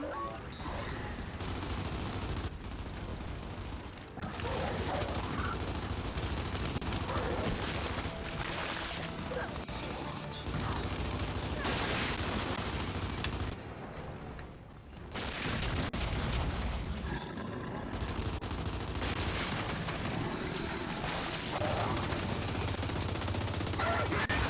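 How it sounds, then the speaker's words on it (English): Dense, continuous gunfire and explosions in a shooter video game, including sniper fire, with loud overlapping shots and booms throughout and brief dips, plus occasional voices underneath. "Watch it! Snipers up top!"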